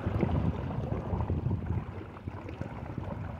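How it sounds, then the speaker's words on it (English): A Minn Kota 30-pound thrust trolling motor fitted with a 10x4 APC prop, running at steady speed out on the water, giving a continuous low churning drone with faint wind, close and even throughout, no talking. "This is the 10x4 APC prop with the 30-pound thrust trolling motor"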